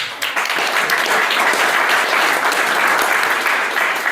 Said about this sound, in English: A round of applause for Thomas.